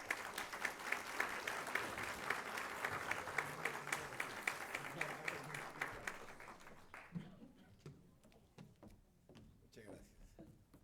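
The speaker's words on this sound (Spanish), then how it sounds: "Un aplauso, por favor." Audience applause at the Premio Copé 2024 awards ceremony, a quiet, fairly distant patter of many hands that holds steady for about seven seconds, then thins into scattered claps and fades.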